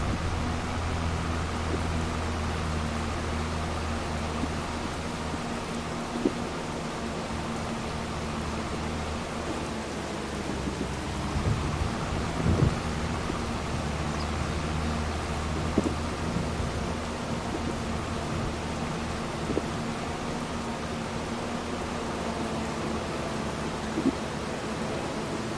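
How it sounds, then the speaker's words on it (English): Steady rainfall hisses without pause in the farming game Farming Simulator 25. Low thunder rumbles roll in now and then, with a few faint distant cracks and no voices. "let's see how much longer it's supposed to be raining"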